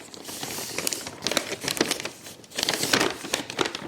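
Close, brisk paper crinkling and rustling as gift wrap is folded into a small bag around a candle, coming in uneven bursts with no one speaking.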